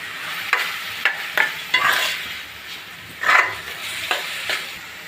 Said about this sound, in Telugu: రెండు టమాటోలు నీళ్ళ పేస్ట్ చేసుకున్నాను, టమాటో పేస్ట్ వేస్తాను